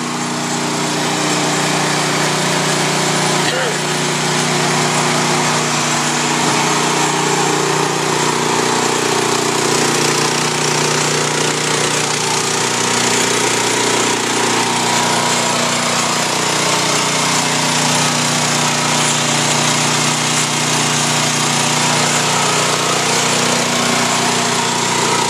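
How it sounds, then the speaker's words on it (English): A homemade 10,000-watt generator runs steadily with a loud, constant engine drone and mechanical rattle throughout, close by, with no talking. "show you my homemade generator"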